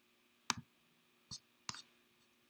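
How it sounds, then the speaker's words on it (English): Computer mouse clicks while creating a folder: three or four crisp, quiet clicks, spaced unevenly, close and isolated against a near-silent room. "I am going to click on App, right button, New, Folder, Assets folder"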